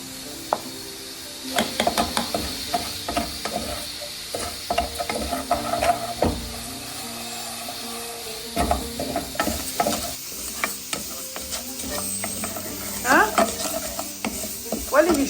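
Sugar stirred with a wooden spoon in a pan, giving steady scraping and clacking strokes over a continuous sizzle, close and moderately loud, with no talking.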